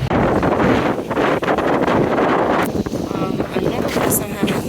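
Strong wind buffets the microphone on Puka Beach in Boracay, a loud continuous roar of gusts with people talking underneath.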